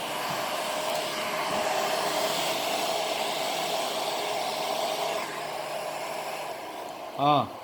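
A hair dryer blows in a steady, loud whoosh during a blow-dry of hair for several seconds, dropping slightly in level near the end, followed by a brief voice.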